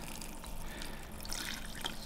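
Natural spring water is poured into an animal enclosure, making a soft, continuous trickle and splash that is faint and close, with a few brief drips.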